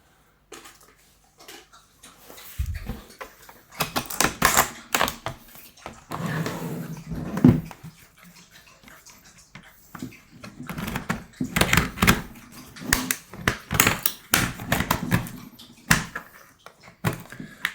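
An old plastic card prying at the latches of a water-damaged Lenovo laptop, giving irregular clicks, snaps and scraping plastic rattles in scattered bursts, close by.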